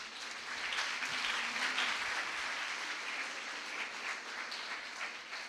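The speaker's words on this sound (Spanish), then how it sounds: "Damos un fuerte aplauso al doctor." An audience at an academic award ceremony in León, Mexico applauds steadily and evenly for several seconds, a dense wash of many hands clapping at moderate distance.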